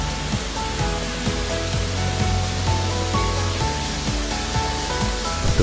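Temesi Waterfall in Gianyar, Bali pours in a dense, constant roar of falling water and spray, loud and unbroken from start to finish, with faint tonal sounds in the background and no voices.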